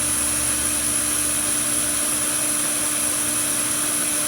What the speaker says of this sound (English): It heats up the plexi where the drill is going.